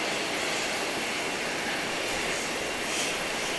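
An airplane arrives at Owen Roberts International Airport on Grand Cayman, a steady, fairly loud roar of aircraft engine noise that holds for several seconds with a slight swell near the end.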